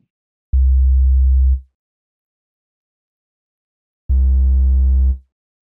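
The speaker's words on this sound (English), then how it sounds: "Whereas our traditional sine wave sounds like this." Pure traditional sine wave tone from the Reason Europa wavetable synth, played as two separate held notes of about a second each, clean and steady with a soft fade, alone in silence.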